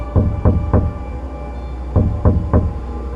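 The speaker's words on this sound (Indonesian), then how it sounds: "Tiba-tiba ada ketukan dari pintu belakang rumah." Someone knocks on the back door of a house, two separate sets of three firm raps with a short pause between them. The knocks are close and clear over a quiet background.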